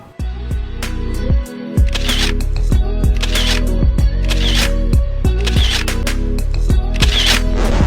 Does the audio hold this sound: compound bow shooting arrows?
no